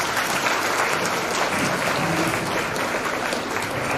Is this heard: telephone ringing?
no